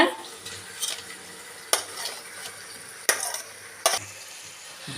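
Tomatoes stirred and sautéing in a pressure cooker for tomato rice, with a soft sizzle under four or five sharp scraping clinks of a spoon against the metal pot.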